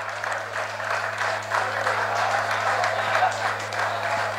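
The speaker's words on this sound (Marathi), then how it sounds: "जोरदार टाळ्या" Audience applause at a Mumbai Marathi journalists' association award ceremony, honouring a senior journalist-photographer, a dense steady wash of clapping lasting throughout over a constant low electrical hum.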